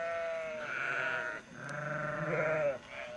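Sheep in a herd bleating repeatedly, several long wavering calls overlapping one another at close range, with short pauses between them and no talking.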